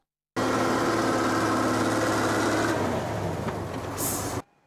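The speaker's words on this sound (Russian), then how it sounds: "Грейдеры собирают снег и сбивают в огромную кучу." Heavy snow-clearing graders push and pile snow in a city courtyard after a big snowfall, giving a loud, steady diesel engine roar that runs unbroken before fading slightly near the end.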